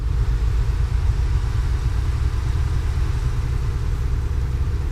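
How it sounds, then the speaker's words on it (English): In a truck simulator game, a truck engine lugs in a high gear at low speed. It gives a loud, deep, steady rumble with a throbbing low pulse and no voices over it. "being in such a high gear at such a low speed, there's a lot of rumble there"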